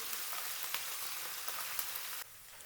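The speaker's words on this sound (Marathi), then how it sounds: "आता कांदा इथे आपल्याला पूर्ण परतवून घ्यायचा आहे" Chopped onion for a green vegetable biryani sizzles steadily in hot oil in a pan, a continuous close crackle with small pops, dropping slightly quieter near the end.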